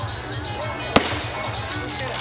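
A single sharp firecracker bang goes off to welcome a performer at an outdoor Sambalpuri orchestra stage show, heard briefly over steady crowd noise and music.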